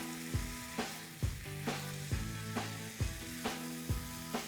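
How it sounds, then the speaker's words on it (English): Ground beef browning in a pan for a cheesy taco hotdish, a continuous sizzle broken by regular scraping knocks of a spoon breaking up the meat, roughly one every second, with faint background music and no talking. "My meat is browning nicely now."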